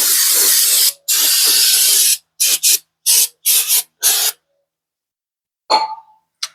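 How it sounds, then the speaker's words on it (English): Brake cleaner sprays onto the front brake of a 2023 Subaru Crosstrek in loud, close hissing bursts, one long spray then several short ones, followed by a brief metallic clink. "A little brake clean."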